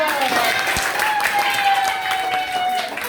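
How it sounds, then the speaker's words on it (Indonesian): A class of tenth-grade students claps together in a school classroom, a dense steady patter of hands lasting a few seconds, with a faint sustained tone running underneath. "Tepuk tangan dong."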